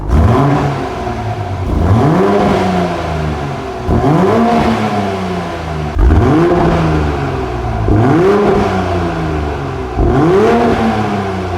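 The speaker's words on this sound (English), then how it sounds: "We're going to let it warm up and then we're going to give it a rev." A Toyota Supra engine revs repeatedly, each blip rising sharply then falling back to idle, about every two seconds, loud and close.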